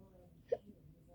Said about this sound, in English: I seem to have the hiccups.